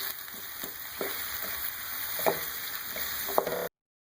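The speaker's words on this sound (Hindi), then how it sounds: "इसको फ्राई करेंगे इसी तरीके से, हर तरफ से फ्राई कर लें।" Onion and green chillies fry steadily in a pan at home, a continuous close sizzle with a few soft stirring clicks and scrapes breaking through, no voices.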